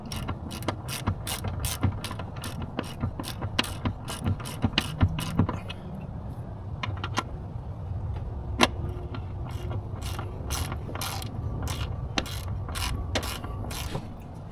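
Bolts coated with Loctite are ratcheted in while a gimbal ring and pivot housing are fitted to a Volvo Penta sterndrive. Close, rapid bursts of ratchet clicking repeat with short pauses, along with occasional clinks of metal.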